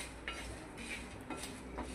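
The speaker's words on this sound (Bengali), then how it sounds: "এই শুকনো লঙ্কা গরম করা হচ্ছে।" Dried red chilies being heated on a tawa, giving soft scraping and light metallic clinks, as if stirred against the hot pan, steady and close for two seconds with no talking.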